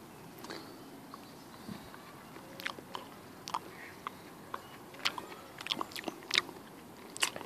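Close, quiet chewing and biting of opposite-leaved golden saxifrage, an edible wild plant, picked and eaten outdoors; soft irregular crunches and mouth clicks over faint outdoor ambience, no talking.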